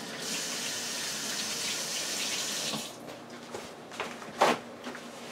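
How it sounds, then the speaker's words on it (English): Water runs steadily from a tap into a sink for about three seconds while hands are washed under it. The flow then stops, leaving a few soft splashes and drips. "Okay, I'm gonna wash my hands."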